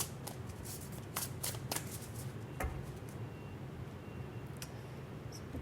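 Tarot and oracle cards being shuffled by hand, a steady papery riffling with several sharper flicks and slaps, close and fairly quiet, with no talking.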